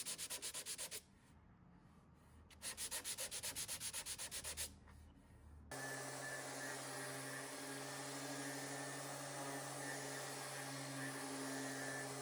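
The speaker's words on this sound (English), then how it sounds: "I then went back in and sanded the whole entire thing with 150 grit and 180 grit" Wooden nightstand being power-sanded with 150 and 180 grit sandpaper before staining, a steady close abrasive whir that cuts in and out at first, then runs continuously with a constant motor hum.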